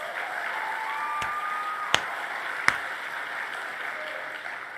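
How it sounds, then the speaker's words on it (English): Steady applause from an audience at a conservative political event honoring Christian Collins, host of the Texas Youth Summit, holding even and moderately distant throughout, with a couple of sharp clicks and a faint whistle or tone under it. "Let's give him a round of applause."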